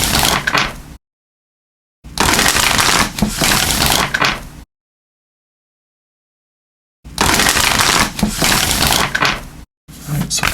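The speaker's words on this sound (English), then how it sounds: "So I'll give these a good shuffle." Oracle cards from the Into the Lonely Woods deck are shuffled by hand in loud, close riffling bursts of a second or two, separated by silent gaps.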